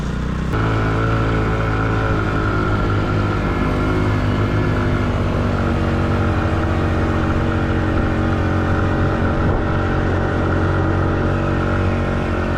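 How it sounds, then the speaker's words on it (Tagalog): A motorcycle engine labors along a mountain trail near a cliffside campsite in Kibungan, a loud, steady, close droning roar that holds throughout with no pauses and no talking. "Pagkaramdaman mo angat yung motor mo, Bert"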